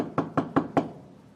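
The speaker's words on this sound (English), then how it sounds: "We went up, knocked on the door." Four sharp knocks on a cabin door, evenly spaced and close, ring out clearly with short decays, then fade to quiet room tone.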